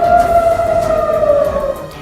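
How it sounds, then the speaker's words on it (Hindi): An air raid siren sounds across an Israeli city during the Israel-Hamas war, one loud sustained wailing tone that slowly drifts lower in pitch and dips near the end, with no voices. "इसके लिए पूरे शहर में तेज आवाज में सायरन बजाए गए"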